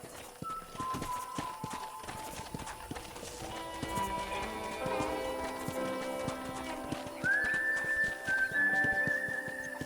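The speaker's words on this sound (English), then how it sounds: "let's see if you can still ride a horse" Horse hooves clip-clop steadily while riding around a ranch in the Red Dead Redemption video game, a close rhythmic trot with an occasional whinny and game ambience layered underneath.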